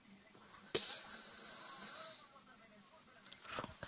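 A man snoring at night in a quiet room: one long, raspy inhaled snore, fairly close, followed by quieter breathing and soft rustling.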